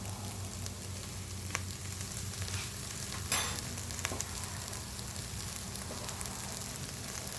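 Minced garlic sizzling in a cast iron Dutch oven gives a soft, steady frying hiss, with a few faint clicks and stirring scrapes throughout.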